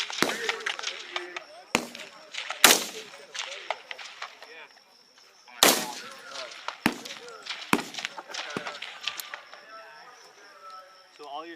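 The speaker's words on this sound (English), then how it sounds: "Once it comes back up, you're good to shoot" Rifle fire at a Marine Corps rifle range during annual training, sharp distant cracks going off irregularly every second or so, with people talking between shots.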